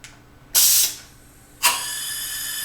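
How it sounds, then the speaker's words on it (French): Air hisses out loudly as a valve opens on equipment hooked to a gauge: a short sharp burst that fades, then a second strong blast that settles into a steady sustained hiss. "vous avez entendu le son de l'air qui sortait parce qu'il y a une valve qui a ouvert"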